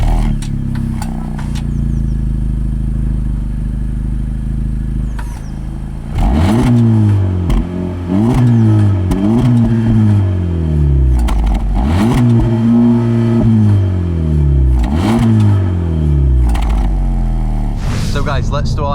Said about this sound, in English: Anyway, let's hear the exhaust note.